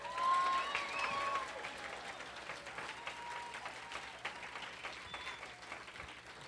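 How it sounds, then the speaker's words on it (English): Audience applause at a Green Party campaign speech, a crowd clapping steadily at moderate distance, louder at first and then easing, with faint scattered cheers. "Let's have another round of applause for those next leaders for this country."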